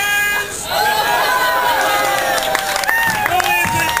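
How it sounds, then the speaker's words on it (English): An audience claps and cheers loudly at an outdoor stage show of King Arthur at World Showcase, while a performer speaks with bright music playing over the crowd. "You should all be clapping, girls."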